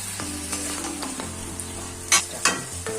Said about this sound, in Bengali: এখন আমি মাংসটা ভালো করে মশলার সঙ্গে মিশিয়ে দিচ্ছি।